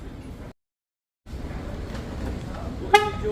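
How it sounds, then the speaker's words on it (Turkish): After a brief silence and low background rumble, a single short car horn toot from a 2024 Ford Courier on double lock sounds near the end, close and fairly loud. "Çift kitlemede kornamız arkadaşlar."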